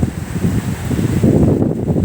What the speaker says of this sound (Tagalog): Kasi medyo talagang malakas ang alon